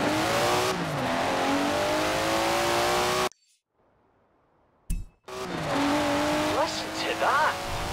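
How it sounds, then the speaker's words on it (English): A Datsun's engine revving in the racing game Forza Horizon 4, loud and rising with tire squeal, cut by about two seconds of near silence, then roaring back with pitch swoops; a voice is heard over it. "Never heard a Datsun sound like that, have you?"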